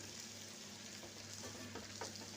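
Garelu, lentil fritters, sizzle and crackle in hot oil, a continuous close frying hiss with a few brief spikes as they are turned, with no talk.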